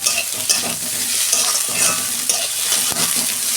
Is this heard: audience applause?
no